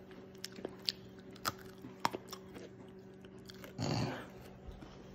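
Crisp crunching bites on a spicy snack from a snack board, a series of sharp close crunches spaced through the clip with a louder burst of chewing near the end.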